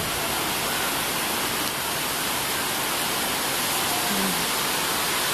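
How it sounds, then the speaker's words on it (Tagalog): Heavy typhoon rain from Ondoy pours down over flooded streets, making a loud, unbroken rushing hiss that never lets up. "Wala pang tigil ang pag-ulan yan."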